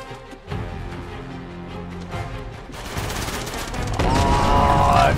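Tank assault in Uncharted 2 with rattling gunfire and booming impacts, continuous and loud, intensifying toward the end with dense crashing debris.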